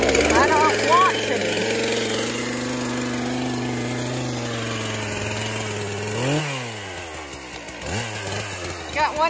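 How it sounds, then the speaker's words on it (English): A chainsaw engine drones steadily up close, with a brief rev and dip partway through, running loud throughout. "Lessons on starting the chainsaw."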